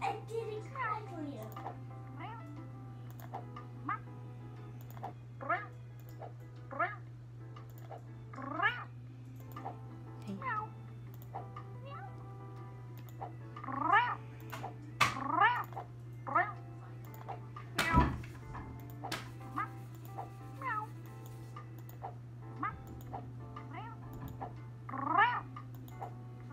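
Cartoonish cat meows from a video game repeat in short bursts over a steady low hum, with someone talking throughout.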